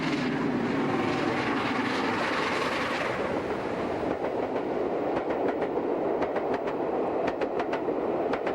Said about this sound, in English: Here she approaches Shotlock Hill Tunnel on the same northbound train seen at Horton.